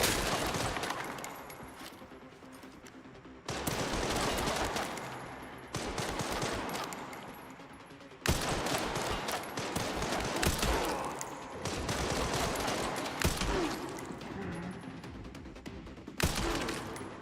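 An upgraded, pack-a-punch shotgun fires in the Resident Evil 9 video game, with loud, dense volleys of gunfire in repeated bursts separated by short pauses.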